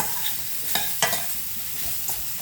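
Mushrooms sauté in a pan for a Tamil-style mushroom curry, giving a steady broadband sizzle with a few sharp scrapes and clicks of stirring, fairly close and continuous, with no voices.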